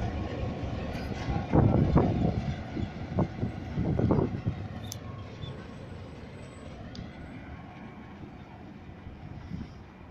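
A Sydney electric train pulls out of Clarendon station, a rumbling rise with clattering bursts in the first few seconds that eases into a steadier, fading roll.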